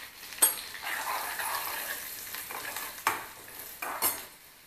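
Hot oil with turmeric and asafoetida crackles in a pan as a spoon stirs it, with a soft sizzle and a few sharper scraping clinks close by.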